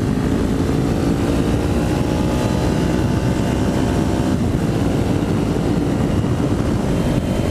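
A Kawasaki Ninja 400 parallel-twin engine with an aftermarket exhaust drones loud and steady throughout, a rough, continuous rumble heard close with no pauses or voices.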